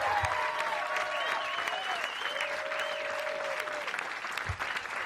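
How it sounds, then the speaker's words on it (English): Audience applause after a stand-up comedy set at a live comedy show: a dense, steady wash of clapping from a full room that holds for the whole stretch, with a few high whistles running through it. "round of applause for Susanna Brisk"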